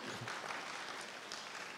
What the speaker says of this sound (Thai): ขอบคุณพระเจ้าปรบมือพระเจ้าด้วย